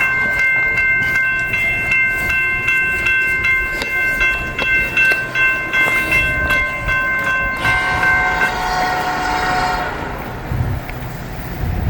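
A Norfolk Southern freight train rolls through the Union Road level crossing, its horn sounding in long sustained blasts over a loud, steady rumble of wagons that continues and brightens toward the end, with no talking.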